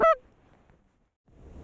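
A goose gives one loud, close honk at the start during a late-season waterfowl hunt in Alberta, then things go quiet before low rumbling noise builds near the end.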